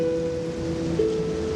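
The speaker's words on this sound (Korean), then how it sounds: "어릴 적 작은 마을의 산들바람과 파도 소리는 여전하네" Ocean waves and a light breeze by a small seaside village in Honkai: Star Rail make a steady, soft wash of surf under a sustained low musical tone, with no voices.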